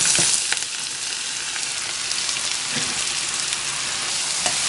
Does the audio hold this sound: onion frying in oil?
yes